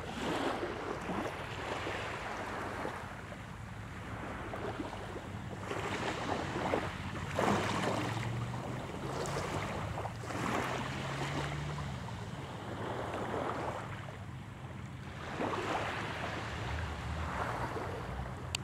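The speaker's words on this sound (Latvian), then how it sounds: "Sāļš jūras gaiss, miers, klusums un maiga vilnīšu čalošana" Small, gentle sea waves lap against a pebbly shore in calm weather, a soft hiss that swells in slow, repeating surges, with some wind rumble and no voices.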